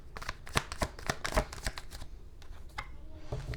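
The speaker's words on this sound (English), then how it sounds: "Let me pull some more cards." Tarot cards being shuffled and pulled, giving a run of crisp riffling flicks and soft slaps of card on card, fairly close and steady, then thinning into lighter occasional taps near the end.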